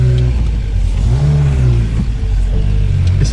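A Renault 4L on old road tyres lurches off-road through a big hole, its small engine revving and straining in a loud, close, continuous drone with shifting pitch over a few seconds.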